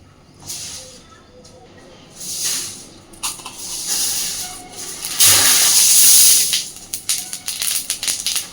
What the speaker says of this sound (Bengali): এইবার এই তেলের মধ্যে আমি ফোড়নে দিয়ে দিচ্ছি একটু আস্ত জিরে